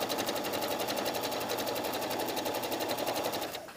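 A sewing machine runs a steady straight stitch along a jacket front dart, a fast even whir close by and alone, stopping abruptly at the end.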